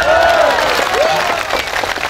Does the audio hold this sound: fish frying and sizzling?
no